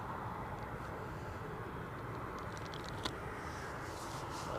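A Lauda airliner at Edinburgh Airport, its jet engines a steady distant broadband roar heard from outside, with no talking.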